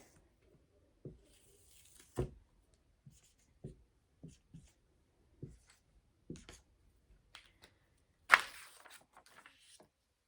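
A math mat drawn by hand with a pen or marker, a series of short separate scratching strokes with pauses between them, one sharper stroke near the end, close and quiet.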